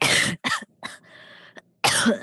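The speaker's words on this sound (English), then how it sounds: "The recording is gonna be terrible with my coughing" Several harsh coughs come in quick succession close to the microphone, with a short pause of breathing before a final cough.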